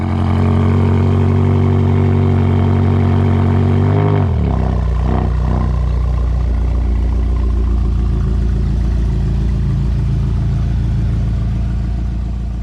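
BMW X5M Competition V8 with a freshly fitted aftermarket exhaust, holding a loud, deep rev for about four seconds before dropping sharply to a rumbling, slightly burbling idle that continues close and heavy.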